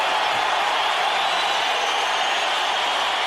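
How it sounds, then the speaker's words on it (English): Boxing arena crowd roaring with rising excitement during a late round of Floyd Mayweather Jr vs Zab Judah, a dense, steady wall of cheering and noise at constant loudness throughout. "And now the crowd's more excited than ever."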